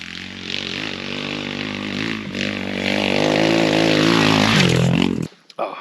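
An X Pro Storm 150 DLX ultralight dual-sport motorcycle rides out on dirt trails, its engine droning and revving up with rising pitch close by, then cutting off abruptly near the end.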